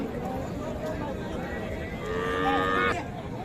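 Cattle at a village livestock market (Raniganj haat, Dinajpur), with Deshal-breed cows and calves lowing amid a busy crowd; one long, loud moo rises near the end over steady background chatter.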